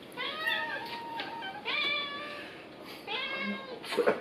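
A house cat meows repeatedly in drawn-out, rising and falling calls, close and fairly loud, in three or four bursts over light room noise, with no voices between them.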